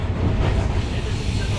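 A second class passenger train rolls between Sutomore and Podgorica in Montenegro, a steady low rumble of wheels on rails heard from inside the carriage.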